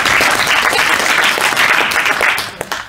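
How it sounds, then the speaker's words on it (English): A class audience gives a round of applause in a lecture room, dense clapping that holds steady and then tapers off near the end. "Give Kim a round of applause for being on the ball."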